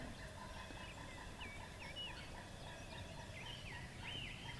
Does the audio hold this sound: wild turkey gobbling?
yes